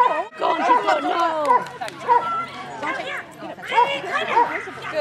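A dog yips and barks excitedly in short bursts during an agility training run, close and mixed with a person's encouraging voice and bits of chatter.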